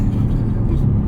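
A 2024 Mercedes-AMG GT 63 S E Performance 4-Door drives on, its engine a steady low rumble heard from inside the cabin, smooth and muted without dramatic peaks, continuous throughout.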